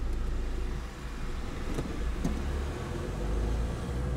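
A car pulls away at the restart of a driving lesson, its engine hum and road noise steady and close throughout, with no talk.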